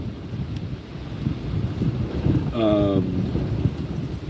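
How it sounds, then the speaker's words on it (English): Wind buffeting a microphone outdoors, a loud low rumbling blast that swells and gusts unevenly throughout, with a brief tonal sound cutting in near the middle. "the wind is like picking up right now"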